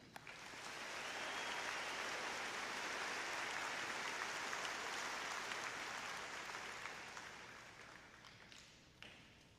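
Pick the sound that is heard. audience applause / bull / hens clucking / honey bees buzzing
audience applause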